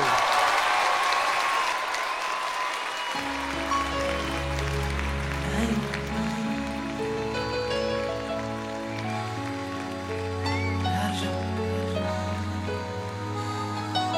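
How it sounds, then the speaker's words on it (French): Television studio audience applauds a singer, loud sustained clapping that carries on as sustained instrumental music tones come in underneath and build. "Je vous demande de l'applaudir très très fort, mesdames, messieurs."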